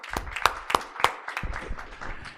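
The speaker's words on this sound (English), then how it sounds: "I think you deserve a round of applause." Audience applause at a book launch event, a handful of sharp, distinct claps with a few louder hits standing out, short and moderately quiet in a room.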